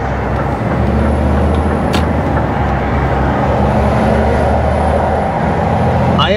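Heavy truck on a motorway slowing down, its engine rumbling loudly and steadily with a sharp air-brake hiss near the start and a brief squeal at the end, no talk.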